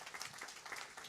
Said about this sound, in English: I'm giving our Kirtan group a big round of applause.